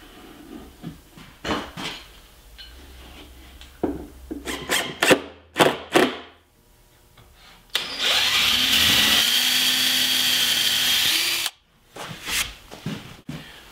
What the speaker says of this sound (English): the next step is to pre-drill and countersink a few holes